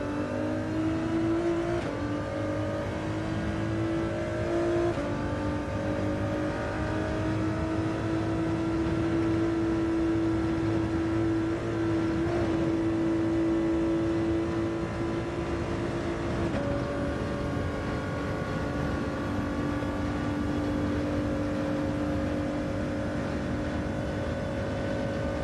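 Ford race car engine in the Gran Turismo 7 racing game on hard tyres, a steady droning tone that shifts pitch through gear changes and throttle, continuous and fairly loud with no talking.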